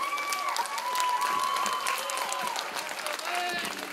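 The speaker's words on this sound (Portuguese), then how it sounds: "uma salva de palmas para ela, por favor" Crowd applause and cheering at a village festival band performance in Pevidem for the band's owner, a beloved seamstress, with steady clapping mixed with voices and singing-like tones throughout.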